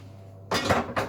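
Metal spoon clanks against a mixing bowl of cupcake batter, two quick close clinks after a short quiet hum.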